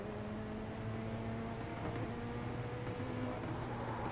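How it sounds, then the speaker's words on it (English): A steady video game car engine drones at a constant pitch, continuous and moderately loud with no pauses. "Guess you're just going by engine noise."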